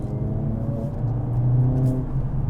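Mercedes-AMG CLA 45 in Sport Plus with manual shifting accelerating from a rolling start, a steady close engine drone with rising harmonics climbing through a gear and a brief dip at a shift, heard from inside the cabin.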